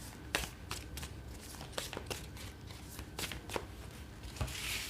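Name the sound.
tarot cards being shuffled and drawn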